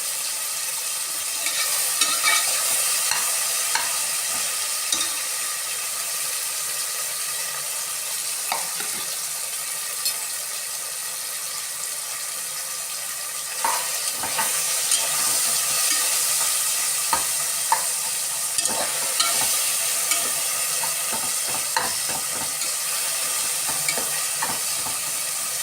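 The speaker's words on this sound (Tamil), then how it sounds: "இந்த தக்காளி நல்லா வதங்கட்டும்" Tomatoes and slit green chillies sauté in a pan for vegetable biryani, a continuous close sizzle broken by frequent clinks and scrapes of a stirring spoon.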